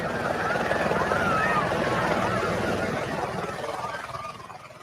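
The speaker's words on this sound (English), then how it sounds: "he would be able to hopefully get a helicopter in for us" A helicopter arriving at a kids' camp, its loud rotor thump and engine drone close overhead and then slowly fading, with people talking underneath.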